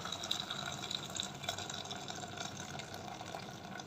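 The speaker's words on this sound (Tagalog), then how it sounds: "So, lagyan natin ng konting tubig." A little water poured into a cooking pot of chicken soup with lemongrass, a soft continuous trickling splash at low level, steady throughout with no talking.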